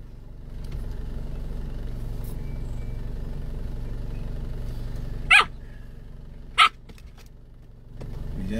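Two sharp, high barks from a puppy, spaced about a second apart, over a low steady engine rumble.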